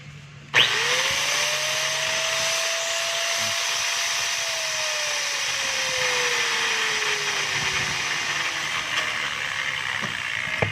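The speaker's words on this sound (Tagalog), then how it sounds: "Ito po yung 1100 watts na grinder de 4 ng DeWalt." DeWalt DWE8300S 4-inch 1100 W angle grinder switched on, its motor whining up to speed, holding a steady high whir, then slowly spinning down after being switched off, loud and close.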